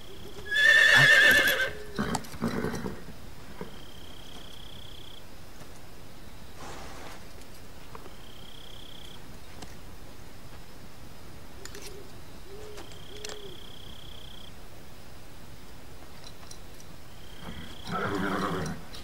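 A horse neighs loudly in Metal Gear Solid 3: Subsistence, a sharp whinny near the start followed by another neigh at the end, with faint game ambience and brief tonal chirps between.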